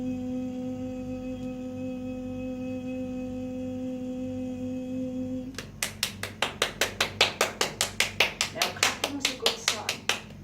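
After a steady electronic hum, hands clap rapidly and evenly, about twenty sharp close claps in a brisk rhythm.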